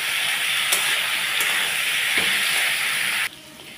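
Potato and pointed gourd stir-fry in oil with turmeric and salt, giving a loud, even hiss of sizzling close by. A couple of faint utensil taps sound, then the sizzle suddenly drops away near the end.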